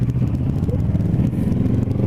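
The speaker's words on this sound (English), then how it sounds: "I don't know if you guys can hear that motor. It just sounds mean." A 2017 Kawasaki Z650 motorcycle engine rumbles steadily in a low, throaty drone with slight clattering texture, fairly close and continuous.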